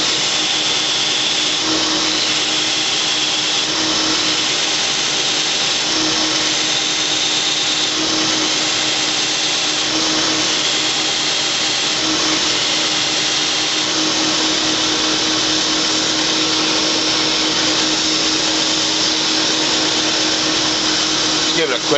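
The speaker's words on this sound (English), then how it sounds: "you're pretty much constantly grinding" Steady, continuous grinding of a kukri knife blade being shaped on a grinder, a loud unbroken abrasive whine and hum that holds for the whole stretch without pause.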